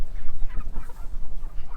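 Meat chickens being herded give off a muffled run of clucks and honking squawks over thumping, rustling handling noise, close and fairly loud with no talk.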